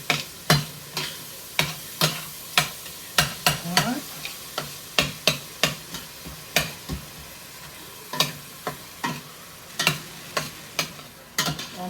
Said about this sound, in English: I'm just breaking it up. Breaking it up, browning it.